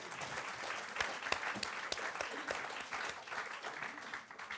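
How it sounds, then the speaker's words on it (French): An audience at a literary talk on fidelity in the literary world breaks into applause. The hand-clapping is moderately loud and steady throughout, with a slight easing toward the end. "ça mérite des applaudissements"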